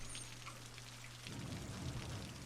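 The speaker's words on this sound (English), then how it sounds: "It doesn't stop raining." Steady, faint rain patters in a city-building game, a continuous hiss with a low hum that drops away partway as the rain texture thickens in the low end.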